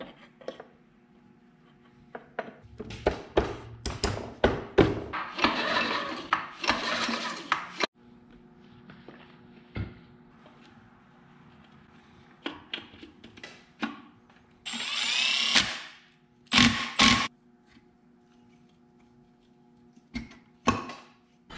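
A cheap used jumping jack rammer with a rusted flywheel runs its small engine in uneven bursts, revving up and dropping back with sharp rattling spikes, loud and close.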